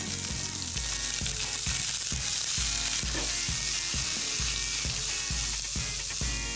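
Sliced onions dropped into a hot frying pan with mustard seeds, loud continuous sizzling close up, punctuated by regular rhythmic scraping and tossing strokes of a utensil.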